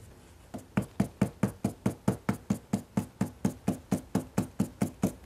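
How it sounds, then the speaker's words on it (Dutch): A small bag of loose pigment powder is tapped onto a painting ground during a reconstruction of a Van Miereveld painting. The dull knocks repeat in a steady, even rhythm of about three per second, close and alone. "Ja, gewoon los pigment in een zakje kun je daarop kloppen."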